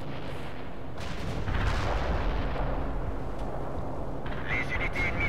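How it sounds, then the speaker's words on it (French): Artillery barrages in the video game World in Conflict rumble as a heavy, continuous low roar of distant shelling. The booming stays dense throughout, with faint radio-like sounds near the end. "Artillerie parée. Affirmatif, on tire."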